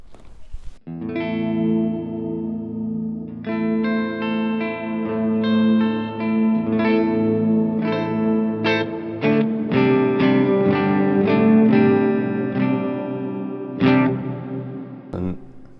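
A sustained, layered instrument tone washed in a bright, shimmering reverb, with high octave-shifted trails ringing above each changing chord.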